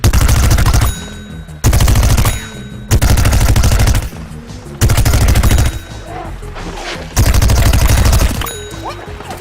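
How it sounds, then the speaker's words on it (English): Ice pea shooter rooted in place firing its rapid Gatling attack at a zombie horde in Plants vs Zombies Garden Warfare: loud, sustained rattling bursts repeat several times, separated by brief pauses. "the ice pea shooter is using his rooted Gatling attack to thin out the zombie horde from a distance"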